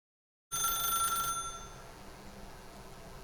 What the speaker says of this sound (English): As Stanley picked up the phone